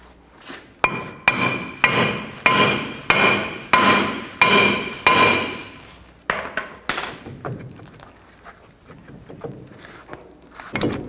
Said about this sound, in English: take a hammer and hit in these locations